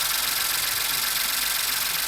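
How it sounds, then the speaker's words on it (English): The engine of a 2024 Ford Transit idles with a steady, even hum and a broad hiss. It runs close and constant for the whole short stretch, with no voices over it. "And then start the vehicle,"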